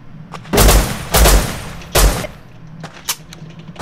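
Gunfire in the video game Rust: three loud, close bursts of rapid shots about a second apart, followed by fainter scattered single shots.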